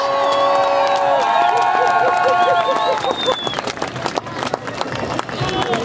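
Crowd at an outdoor pro-life march applauding and cheering, dense clapping under shouts and sustained tones early on, then a looser patter of claps continuing to the end.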